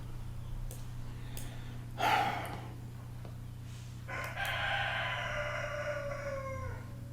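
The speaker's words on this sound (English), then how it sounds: "Cock-a-doodle-doo." A rooster crows once, a drawn-out cock-a-doodle-doo that falls in pitch, following a brief scuffling sound against a steady low background hum.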